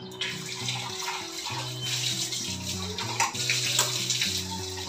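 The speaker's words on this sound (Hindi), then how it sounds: "तो वही इसको धो लेती हूँ" Running tap water splashing steadily while a dish, an offering plate from a home puja, is washed in a kitchen sink, close and continuous with occasional clatter and no talking.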